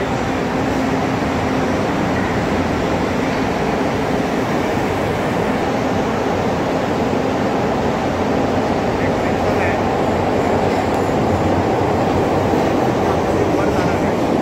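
Underground metro train in Chicago running, a loud continuous rumble and rushing roar that holds steady throughout, heard from inside the moving train.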